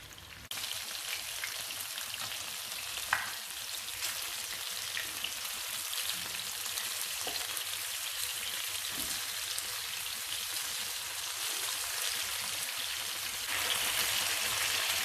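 Chicken with peppers fries in a pan over slightly raised heat, giving a steady, close hiss and crackle of sizzling fat that runs unbroken and grows a touch louder near the end, with no talking.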